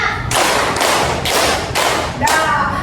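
A group claps in unison to a counted rhythm: four loud, evenly spaced group claps, each a sharp broadband burst lasting about half a second, with a faint voice underneath.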